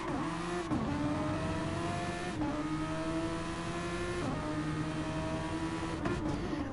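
Open-wheel race car engine on the Barcelona circuit, a steady high whine that drops as it brakes and climbs again under acceleration, repeating through gear changes, loud and near with no talk.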